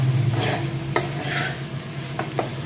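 Sabudana and green chilies are sautéed in oil with a spatula, giving a continuous sizzle under scraping strokes and a few sharp metallic knocks against the pan.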